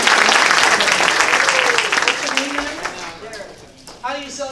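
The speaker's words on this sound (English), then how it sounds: "Let's give him a round of applause." An audience applauds at a sales and sponsorship meeting, a loud burst of clapping that fades over a few seconds as a voice begins speaking near the end.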